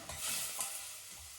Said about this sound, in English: I'm going to give them a stir so that it's coated in the oil